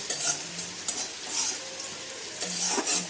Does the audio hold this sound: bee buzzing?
no